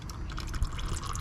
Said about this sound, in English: And dripping down into the oil pan.